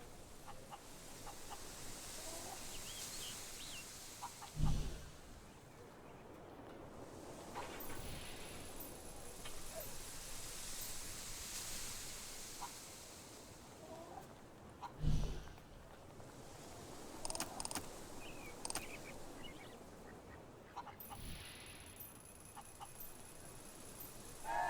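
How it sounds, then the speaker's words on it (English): A chicken clucks in the video game Fable 3, soft and intermittent over a quiet noisy bed, with a few brief louder bursts spaced apart. "Mr. Cluckles comes from a long line of chickens."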